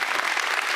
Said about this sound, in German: Hat auch nochmal einen Applaus verdient.